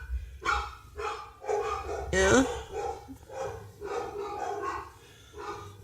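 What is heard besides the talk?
dogs barking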